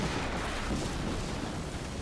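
Rumbling blast from the Quantum Break video game, a loud dense boom that rolls on for about two seconds without distinct separate hits.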